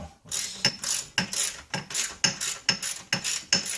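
A hand ratchet turns an 18mm bolt on the rear lower control arm of a Jaguar XJ8, clicking in a steady, evenly spaced rhythm of about a dozen close, crisp strokes.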